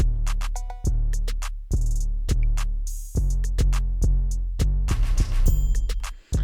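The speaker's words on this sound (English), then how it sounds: "this West Coast stomp at the end of the 4 bars." A punchy electronic R&B beat with heavy booming kicks and crisp percussion, building to a cluster of West Coast-style stomping hits at the end of the four-bar loop.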